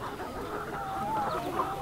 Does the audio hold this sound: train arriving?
no